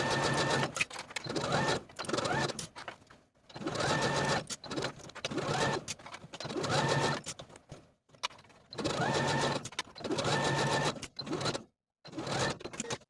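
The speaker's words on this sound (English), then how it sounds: "sew this seam with a 3/8 inch seam allowance" A domestic sewing machine runs a tee shirt seam at a 3/8 inch allowance, loud close bursts of rapid stitching broken by short pauses, with no talk.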